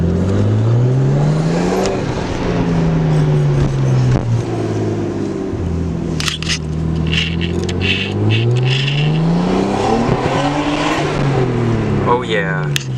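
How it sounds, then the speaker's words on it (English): A Nissan Skyline R32 with a newly installed Tomei exhaust revs repeatedly, its pitch rising and falling through several loud, close throttle blips with a throaty exhaust tone and some background voices. "Exhaust has been installed and we are going to test out this sound."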